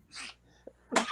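A loud, sharp sneeze bursts out near the end, preceded by a softer breathy exhale and a brief small sound during an indoor interview.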